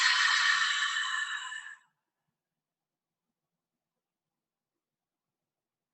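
A deep exhale through an open mouth with an audible ha, a breathy rush lasting under two seconds that fades into silence, close and alone.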